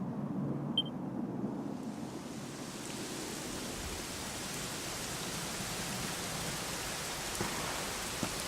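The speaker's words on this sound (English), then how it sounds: "it was raining like this the last time I ever saw her." Steady rain pours down in Dragon Quest XI, a dense, even hiss with a low rumbling undertone that stays constant throughout, with no voices over it.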